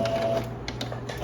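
A sewing machine runs a 1 cm seam through skirt fabric in a short, close burst of rapid mechanical stitching with small clicks and no talking.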